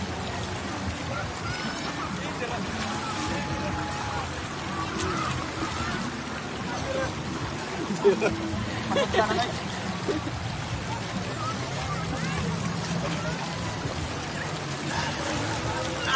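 Stream water rushing and splashing steadily as people bathe in it, with voices talking over the flow.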